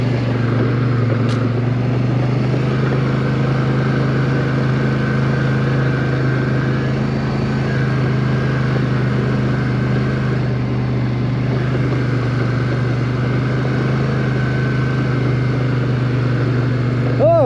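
A High Lifter 1000 ATV on 32-inch tires with 2 inches of lift idles steadily at an ATV park, a constant loud low engine drone that holds without revving throughout.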